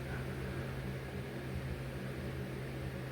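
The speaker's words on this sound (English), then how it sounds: "I want to apologize for the noise. It's the fan." An electric fan runs steadily in a hot room, a constant broadband whoosh with a low hum, unchanging and fairly loud throughout.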